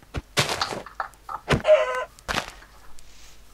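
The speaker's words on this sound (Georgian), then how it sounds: "ო, ქათამი. ო, ეს ქათამი." A Minecraft chicken clucking in the game, several short separate clucks and bursts, close and clear, with no talk over them.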